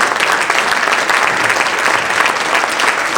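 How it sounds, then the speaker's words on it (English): Crowd at a political party foundation's annual dinner giving a dense, sustained round of applause, loud and close throughout. "Let's give the Democratic Foundation a round of applause again for what you started."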